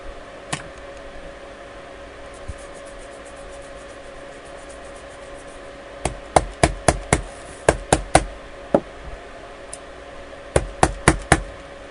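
A rubber stamp is pressed and tapped onto paper with Desert Sand ink for scrapbooking, making sharp close knocks, single at first, then quick bursts of several taps in a row.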